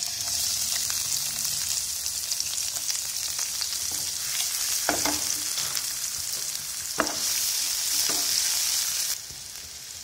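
Onions fry in a tablespoon of oil in a frying pan on a gas stove, with a loud steady sizzle close up and a few sharp scrapes as they are stirred, before the sizzle drops away near the end.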